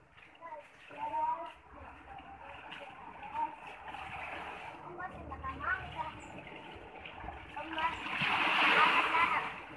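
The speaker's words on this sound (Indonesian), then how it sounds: "itu benar-benar ombak sih kena tong" Seawater waves in a flooded coastal village splash repeatedly against a barrel, a rough sloshing wash that builds to a louder surge near the end, with voices heard alongside.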